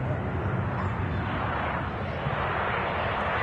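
Aer Lingus airliner from Dublin landing at Manchester Airport: a loud, steady broadband jet roar that holds at an even level throughout, with no voices.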